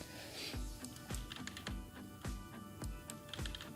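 Keys clatter on a computer keyboard in a few quick bursts of three or so strokes, close and crisp with a steady rhythm and no voices.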